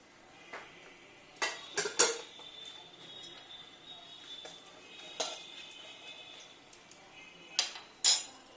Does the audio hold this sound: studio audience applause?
no